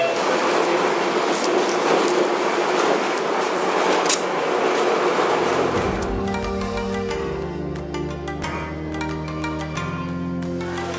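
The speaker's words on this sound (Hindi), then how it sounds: "तो ये थी ट्रैम नंबर 1" Tram number 1 pulling into a stop in Irkutsk, Russia: a loud rolling rumble gives way to squealing, clattering wheels and metallic clicks as it slows and halts close by.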